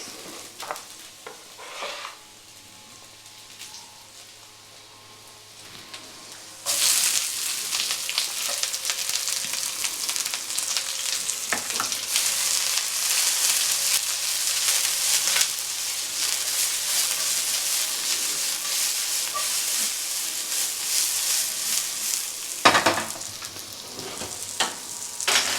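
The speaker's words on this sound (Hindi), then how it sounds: "we'll start with the frying now. To begin with, ginger garlic" Ginger, garlic and onions frying in hot oil for healthy atta Maggi noodles, starting quiet then jumping into a steady, loud sizzle with occasional stirring scrapes; no talking.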